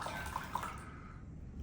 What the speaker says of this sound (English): we're gonna pour it in just the room temperature water.